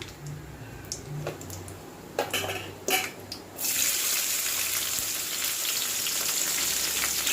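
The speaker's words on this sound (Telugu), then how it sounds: "ఇప్పుడు ఉల్లిపాయ, పచ్చిమిరపకాయ వేసేసుకున్నాము" Onions and green chilies hit hot oil in a pan for a sora fish fry: a few stirring clatters, then a loud, steady, close sizzle that fills the rest of the moment with no talking.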